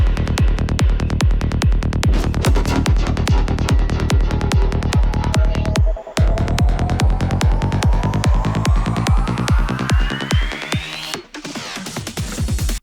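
Gated synthesizer effect chopping a sustained tone into fast, evenly spaced pulses, with a rising sweep building underneath before brief cutouts, loud and continuous with no talking.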